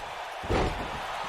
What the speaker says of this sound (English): Now toss him off and catches him and slams him right into that mat.